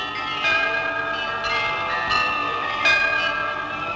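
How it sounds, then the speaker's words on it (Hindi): Temple bells ring out in a steady, resonant wash, with several distinct strikes at intervals blending into a sustained metallic shimmer, moderately loud with no voices. "वो घंटियां पुकारने लगी"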